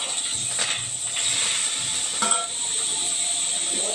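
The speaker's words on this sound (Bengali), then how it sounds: "এবারে শাকটা ফোড়ন দিয়ে নিচ্ছি" Leafy greens tempered with spices in a hot pan give off a steady, close sizzling hiss with faint crackles and no speech.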